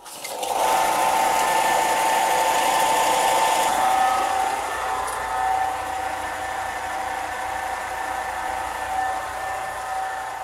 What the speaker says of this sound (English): Use my sander for that.